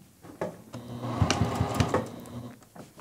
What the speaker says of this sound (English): And then now I'm going to backstitch when I start.